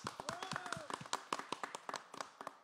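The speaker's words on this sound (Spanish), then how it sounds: "¡Un aplauso, señores!" Audience clapping at a Mexican norteño music gathering honoring the Virgin of Guadalupe with mañanitas, a run of sharp, uneven claps close by, mixed with voices and a brief sung or whistled tone.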